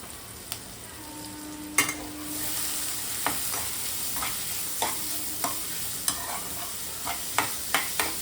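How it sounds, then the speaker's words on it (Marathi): Finely chopped onion and sliced green chili fry in a pan for street-style chole, with a continuous sizzle under a steady series of spatula clicks and scrapes, close and moderately loud. "नेक्स्ट आपल्याला ह्यात घालायचा आहे हा भरपूर सारा बारीक चिरलेला कांदा."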